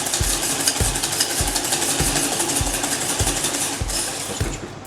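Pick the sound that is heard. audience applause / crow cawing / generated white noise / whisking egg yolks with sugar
whisking egg yolks with sugar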